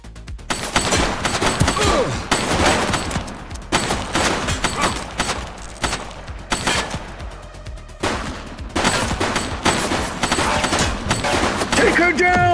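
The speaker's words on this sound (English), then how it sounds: "She's shooting!" A shooting suspect in The Precinct video game fires a weapon in dense, loud bursts. The shots run almost continuously over a low rumble, with short lulls between volleys.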